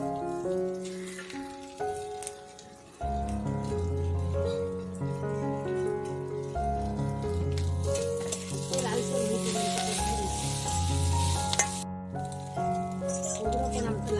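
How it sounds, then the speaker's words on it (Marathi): Grated coconut fries with browned onion in a pan, a steady sizzle and stirring that swells after a quieter start and runs under a voice and background music. "कांदा लालसर झालेला आहे आणि आता त्याच्यात आम्ही खोबरं घालू"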